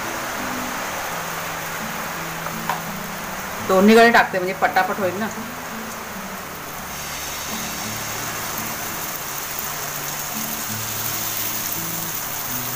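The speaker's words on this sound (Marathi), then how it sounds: "आवाज येतो पावसाचा" Steady rain hisses outside a home kitchen while malpua pancakes fry in ghee, a constant even wash of noise; someone speaks briefly partway through.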